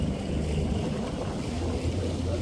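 A jet ski out on open water gives a steady low engine rumble mixed with wind and splashing water, holding even and moderately loud from start to finish.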